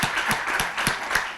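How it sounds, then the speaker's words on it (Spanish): Steady applause from a crowd at an international festival ceremony at the University of Murcia, dense overlapping claps with a few sharper accents, moderately loud and continuous throughout. "Un merecido aplauso para"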